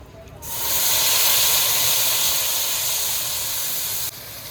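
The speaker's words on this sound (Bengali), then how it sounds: "তেলের উপরে দিয়ে দিচ্ছি কাঁচা লঙ্কা ও সর্ষে বাটা" Green chillies and mustard paste hitting hot oil tempered with black cumin, for a parshe fish dish: an abrupt, loud, close sizzling hiss that holds steady for about four seconds, then drops off.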